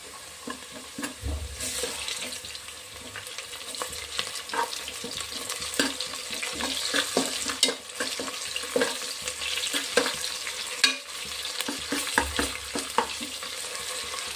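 Ginger garlic paste frying in oil for mushroom biryani, a continuous crackling sizzle with frequent stirring scrapes and taps of a spoon against the pot, close up, with no voices.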